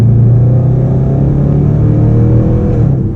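A 2017 Range Rover Sport SVR engine roars loud and close, a deep steady drone throughout with strong low harmonics, building slightly as the car accelerates, no voices over it.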